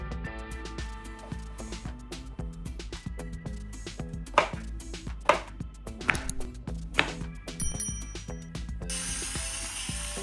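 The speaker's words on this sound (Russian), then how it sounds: "Нарезаем кубиками." Two medium eggplants being cut into cubes with a knife on a board, a run of crisp, close chopping taps with several sharper thuds standing out, fairly quiet overall.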